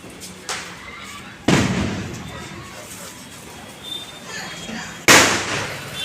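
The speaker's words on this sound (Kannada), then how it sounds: "ಎಲ್ಲ ಪಟಾಕಿ ಹೊಡಿತಾರೆ." Diwali firecrackers go off in three sharp, loud bangs spaced seconds apart, each followed by a brief crackling tail.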